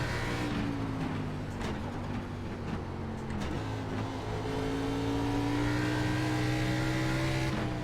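An ARCA Menards Series race car accelerates off a corner at Watkins Glen in iRacing, its engine climbing steadily in pitch through the gears as a close, loud, sustained whine.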